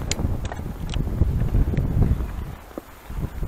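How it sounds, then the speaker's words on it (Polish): Steady wind rushes and buffets the microphone outdoors, a continuous low roar with faint rustling over the top. "Wiatr wiesz szumiał."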